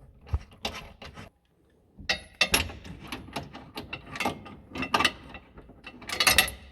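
Bolts on a GR Yaris bash plate are tightened with a half-inch breaker bar, giving bursts of sharp ratcheting clicks and metallic clatter, close up, separated by short pauses.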